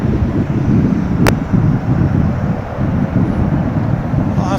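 American flight 489, an airliner at DFW International Airport, passes as a broad, steady roar buffeted by wind, with a brief sharp click partway through and no clear voices.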